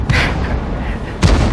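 An M40/M43 self-propelled artillery gun fires in the tank game World of Tanks, two heavy booming shots about a second apart, loud and close.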